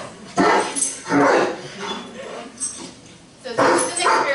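A reactive dog on a leash barks in several loud bursts with whimpering and yips between them, in a short irregular run of outbursts.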